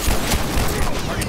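Gunfire in The Last of Us multiplayer, dense overlapping shots from a revolver pistol and other weapons in a rapid, loud burst at close range, with faint voices underneath.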